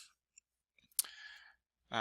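A computer mouse clicks while an online quiz is being set up, with a few short, sharp clicks spread across a quiet stretch, along with some soft breathy sounds.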